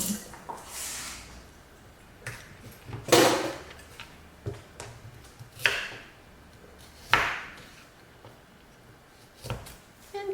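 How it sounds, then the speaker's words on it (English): Carrots chopped into small chunks on a board, a series of sharp knife thuds at uneven intervals, several clear strokes standing out over quiet kitchen background. "And chop them into small chunks."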